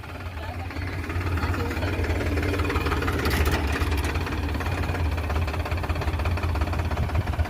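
A tractor engine runs steadily nearby during sugarcane harvesting, a continuous low rumbling drone with a faint knocking throb throughout.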